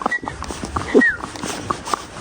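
A dog whimpers and yips on an outdoor walk, giving short high-pitched whines and yelps at close range over a noisy background.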